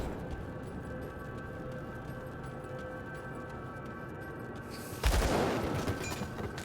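A low steady hum of combat in the Grim Dawn video game gives way to a sudden loud burst of gunfire from dual pistols, followed by a rushing, decaying spray of shots and impacts.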